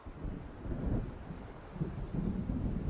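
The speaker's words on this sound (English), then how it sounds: "It seems there's a storm coming." Thunder from an approaching storm in the video game Alan Wake rumbles low and continuous, swelling and easing in long rolling waves with wind, moderately loud and distant.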